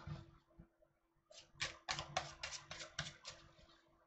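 Tarot cards riffle in a quick run of about eight soft, evenly spaced flicks close by after a few faint taps, quiet overall.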